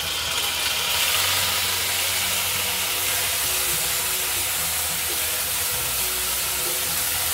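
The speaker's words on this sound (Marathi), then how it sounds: "तेल चांगलं तापल्यावर आपल्याला मोहरी टाकायची आहे" Mustard seeds sizzle in hot oil, giving a continuous bright hiss that stays fairly steady and loud for about seven seconds with no talk over it.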